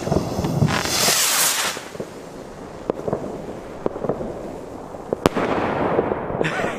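Diamond Sky Dance consumer fireworks with a flashbang effect: a loud burst and hissing flare near the start, then sharp scattered bangs and crackles over outdoor wind noise.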